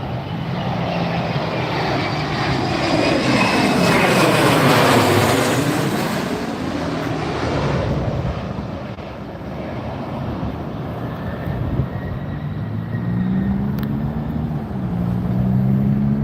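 A fixed-wing airliner landing in a strong crosswind at Las Vegas, a loud continuous jet engine roar that swells and sweeps in pitch as it passes close by, steady throughout with no talk.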